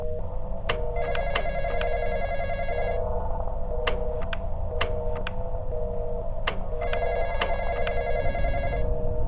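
A telephone rings inside a Roblox horror video game, repeated bursts of electronic bell trills over a steady low drone, punctuated by sharp ticking clicks.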